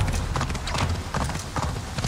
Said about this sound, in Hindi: घोड़ा ही था